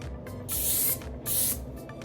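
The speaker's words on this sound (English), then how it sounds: "Take these pieces out, spray those." Two short bursts of hairspray hissing close up onto curled hair, separated by a brief pause, with quiet handling noise around them.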